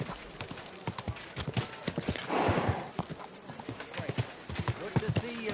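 Horse hooves clip-clopping in Kingdom Come: Deliverance II, a steady close rhythm of hoof strikes with a brief whinny mixed in, while someone talks over much of it.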